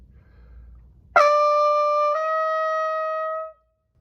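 A single brass note, E, is tongued cleanly with a light legato articulation and moves smoothly up a step to F, sustained for a couple of seconds before stopping.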